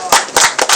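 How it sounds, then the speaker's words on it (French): A few people at a barbecue gathering clap for a football coach, several sharp, close hand claps in a quick, uneven burst. "Il est là, applaudissez très fort pour lui."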